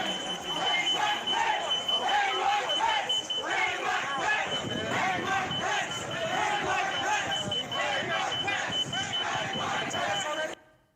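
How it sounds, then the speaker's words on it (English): A US Capitol security door alarm sounds as a steady high tone beneath a dense, loud mob shouting and chanting, continuing without pause before cutting off abruptly. "You can hear the security alarm from the door in the background"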